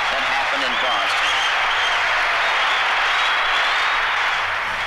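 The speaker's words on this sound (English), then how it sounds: "There's a tremendous roar from the crowd as the two meet" A hockey crowd roars in a big arena, a loud sustained wash of cheering and applause filling the whole stretch without letup.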